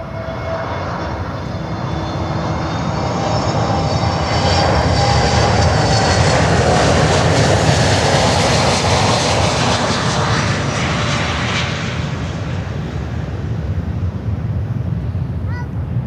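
An American Airlines Airbus Neo jet comes in to land at Miami airport, its engine roar loud and close, swelling to a peak mid-pass and holding steady with some wind rumble across the microphone.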